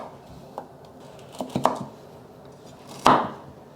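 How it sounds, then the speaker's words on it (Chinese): A knife chopping taro into large chunks on a cutting board, a few scattered thuds followed by a heavier final chop, close by, with no talking. "把芋头切成块状，切大块一点"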